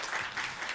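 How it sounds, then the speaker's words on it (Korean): A short burst of audience applause in a conference hall at WOOAHCON 2023, a tech and design event, heard as a soft, dense patter of clapping lasting under a second. "이 자리를 빌어서 모두 고생하셨다고 정식으로 박수 좀 쳐드리고 싶고요."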